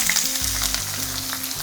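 Chopped onion hits hot oil already tempered with dry red chilies and a bay leaf for a lentil bharta, giving a steady close sizzle throughout with no voices.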